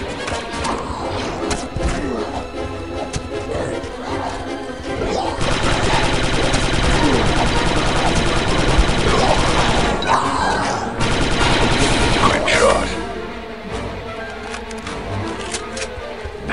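A mounted turret fires in the Star Wars Republic Commando game, loud rapid bursts of blaster fire building into a sustained barrage in the middle, mixed with game effects and brief radio-style voices.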